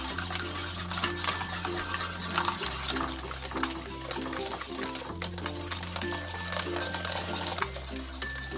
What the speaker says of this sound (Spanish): El jugo de limón está caliente y voy a agregar poquito a poco sin dejar de batir.